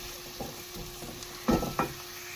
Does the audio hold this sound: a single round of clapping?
no